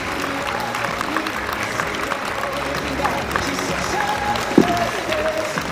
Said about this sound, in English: Give our Scouts a wonderful round of applause.